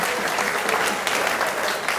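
Loud, steady applause from a crowd, a dense wash of clapping hands filling the whole moment without pause, given during a Hebrew religious lesson in honour of the people of Israel.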